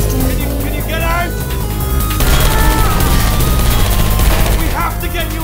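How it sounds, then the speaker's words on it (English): Loud, dense bursts of gunfire from the video game Portal 2 rattle continuously amid booming effects and shouting voices, a chaotic battle scene throughout. "I heard gunfire!"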